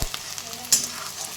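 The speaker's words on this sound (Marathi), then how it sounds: "इकडे कांदा मिरच्या पण खूप छान तळत आहे" Onions and green chillies fry in a pan with a steady bright sizzle and crackle, one sharper spatter rising briefly partway through.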